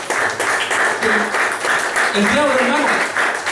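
Church congregation applauding during a Spanish-language sermon, steady broadband clapping throughout with a preacher's voice talking over it.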